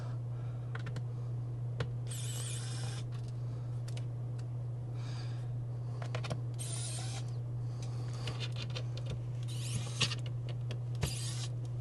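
A mini electric screwdriver with a tiny bit unscrews a small screw, giving a steady low motor hum throughout with scattered light clicks and creaks layered on top, close and fairly quiet.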